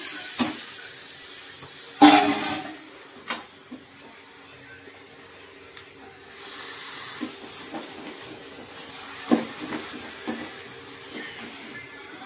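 Pieces of chicken go into a pan of fried, reddened spice paste, giving a soft thump followed by a steady hissing sizzle that swells partway through, with occasional clinks of stirring.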